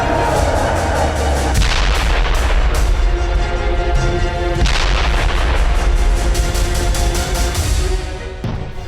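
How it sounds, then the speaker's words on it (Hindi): Airstrike bombing in the Gaza Strip, heavy booming explosions and blasts in rapid succession, loud and sustained with sharp impacts before fading near the end. "आईडीएफ ने आसमान से बरसाए बम"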